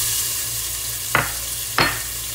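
Onion frying in oil in a pot, a steady loud sizzle throughout, broken twice by short scraping swishes of stirring.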